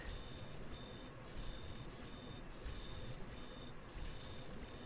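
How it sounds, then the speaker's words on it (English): No-oxygen alarms in the video game Space Base DF-9, a faint high electronic beep repeating in pairs over a steady noisy background hum. "it's alarms because there's no oxygen"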